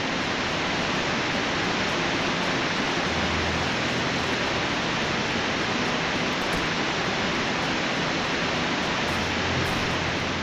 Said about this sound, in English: We got waterfalls that sound like jet engines.